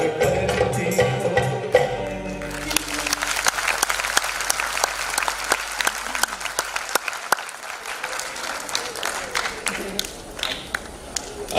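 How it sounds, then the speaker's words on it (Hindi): An audience bursts into loud, sustained applause after a Hindi song. Dense clapping fills the space, with some crowd noise and voices faintly beneath it, then tapers slightly toward the end. "आपने तालियां जो इतनी सारी बजाई हैं"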